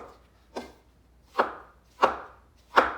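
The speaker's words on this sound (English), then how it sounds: "Chopping them up in about 1/4 inch strips." Knife chopping cremini brown mushrooms into quarter-inch strips on a cutting board, four distinct crisp cuts at an uneven, unhurried pace, close and clear with no talking.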